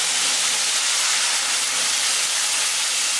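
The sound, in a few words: water added to hot tempering with cumin and turmeric, sizzling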